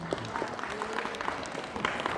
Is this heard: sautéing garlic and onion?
no